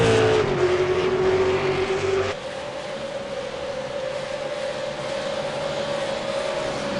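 V8 Supercars race cars running nose to tail in a pack at Watkins Glen, a loud sustained engine roar with a steady pitch that shifts abruptly as one car passes and another takes over, droning on without letup.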